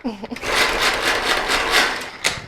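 An electric food chopper whirs steadily as it chops ingredients for a holiday appetizer spread, running loud and close for about two seconds with a pulsing edge. A brief voice comes just before it starts, and it cuts off with a short final burst.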